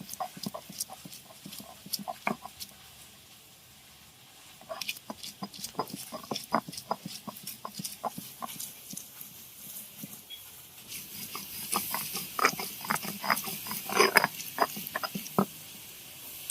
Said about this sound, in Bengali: এবার আমি রসুনটা বেটে নেব।